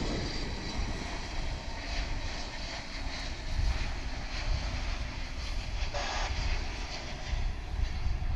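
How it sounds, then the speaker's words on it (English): An Airbus A321 airliner touches down at Dallas Fort Worth International Airport, arriving from Los Angeles, its jet engines giving a steady broadband roar that holds moderately loud and even throughout. "That was flight 2811, an Airbus A321. Touching down"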